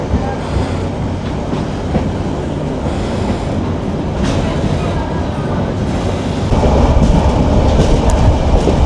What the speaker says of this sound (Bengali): এই যে আমাদের train রুবাল express Ramu railway station ছাড়ার পরে দুর্দান্ত গতিতে ছুটে চলছে